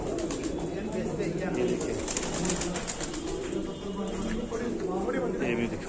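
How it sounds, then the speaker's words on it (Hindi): Rare pigeons coo in soft, repeated calls within a busy loft, heard close under someone talking throughout. "कैसे कैसे नायाब कबूतर इधर है"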